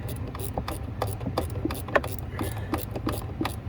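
A socket ratchet tightens a bolt while a heater blend door motor is replaced on an Impala, giving a rapid series of close, crisp clicks in a steady rhythm under a low background hum, with no talk.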